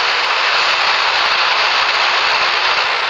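Airplane landing in a video game: a loud, continuous jet-engine roar, close and steady throughout, with no talk over it.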